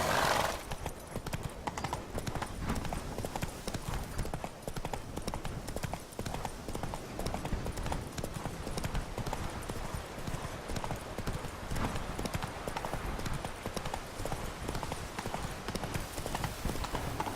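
Horse hooves clip-clop at a steady trotting rhythm in The Witcher 3 video game, close and continuous, with a brief whinny and occasional faint voice.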